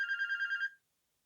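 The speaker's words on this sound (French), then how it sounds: "C'est le téléphone qui sonnait de l'autre côté." A telephone rings once with a short, bright electronic warble, trilling in quick pulses for under a second before stopping, heard alone against silence.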